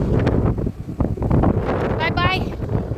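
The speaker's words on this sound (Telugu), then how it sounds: "బైక్ మీద వెళ్తున్నాం." Wind buffets the microphone while riding a motorbike outdoors, a loud, continuous low rumble with gusty surges throughout; a voice is faintly heard underneath.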